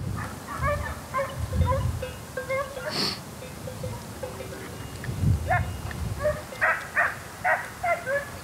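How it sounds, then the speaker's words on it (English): Hunting dogs bay and yip while tracking a hare outdoors, a pack of moderately distant voices in repeated bursts that grow more frequent toward the end, with some faint talk underneath. "A well-trained dog gets on the track of a hare and then pushes it back towards the hunters."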